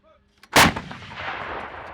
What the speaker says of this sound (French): tous les camps de manœuvre ne permettent pas de tirer avec ce type de pièces d'artillerie